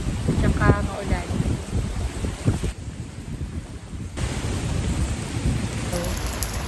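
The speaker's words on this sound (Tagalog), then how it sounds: "Parang bukas pa ito matatapos na ulan." Heavy rain pours in a steady, dense hiss on a beach in Siargao. A voice is briefly heard early on under the downpour.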